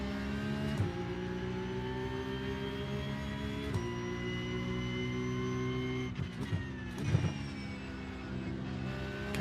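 A race car engine in iRacing at Fuji drones steadily at high revs, its pitch sliding and jumping with each shift, and a rough stumble near the end follows a late downshift; no one speaks over it.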